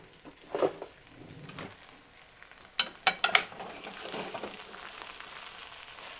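Oil and vegetables sizzling in a frying pan for yakisoba over medium heat, a few sharp crackles and pops early on, then a steady soft frying hiss.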